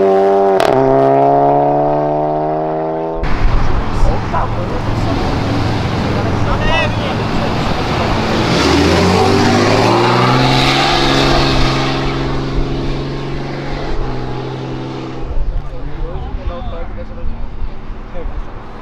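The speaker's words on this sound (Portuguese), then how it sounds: "é o primeiro Golf GTI com motor Honda que eu vejo" A Golf GTI fitted with a Honda K20 engine drives past amid a car meet, its engine note climbing and shifting through loud revs, with crowd noise, voices and other vehicles around it.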